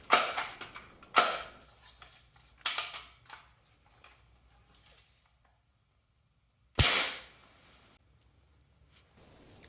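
BB gun shots fired into a foam and resin camper panel: about five sharp, crisp cracks spaced irregularly with quiet gaps, each followed by a brief rattle, near and loud.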